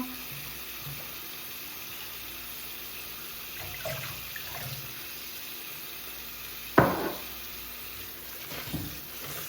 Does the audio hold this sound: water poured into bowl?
yes